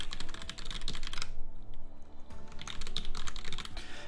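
Rapid clicking keystrokes on a computer keyboard sound close and fairly quiet, with a short pause partway through before the typing resumes at the same brisk pace, and no one speaks.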